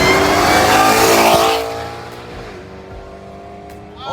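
A powerful supercharged V8 engine in a built 2020 Shelby GT500 Mustang roars loudly at high revs, then the pitch drops and it settles into a lower, rumbling idle with a brief blip near the end.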